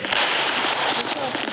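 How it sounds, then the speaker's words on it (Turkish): A bomb explodes in the online shooter Zula, a loud sustained crackling blast that fills the whole short moment with dense, noisy bursts. "Bombayı kullanıyorum."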